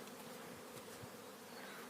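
Many honeybees from overwintered hives buzz in a steady, dense hum during their spring cleansing flight, with occasional individual bees passing close by.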